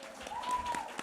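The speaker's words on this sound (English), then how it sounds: "You all have clapped." Audience at a nursing conference in Kolkata breaks into brief applause, a short burst of scattered clapping from a hall crowd, with a voice over it.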